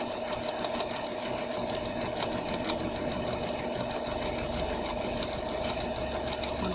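Sewing machine stitching fabric, including a back stitch, running in a fast, even mechanical rhythm of needle strokes with a steady motor hum, close and continuous throughout, with no voices.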